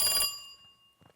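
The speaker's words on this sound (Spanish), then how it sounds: "Creo que está a punto de sonar el teléfono." Telephone ringing, one bright metallic bell burst that decays quickly, followed by faint soft noises.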